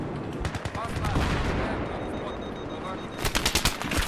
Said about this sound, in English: And I just died by a machine gun.